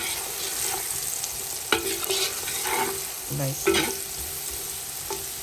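Cumin, black pepper and salt stirred into kebab masala frying in a pan: a steady sizzle with several distinct scraping stirs of a utensil, close and moderately loud, with a brief spoken word.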